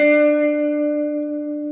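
A single sustained electric guitar note with lateral finger vibrato, ringing steadily with slight wavering pitch, clean and clear, fading gradually over under two seconds.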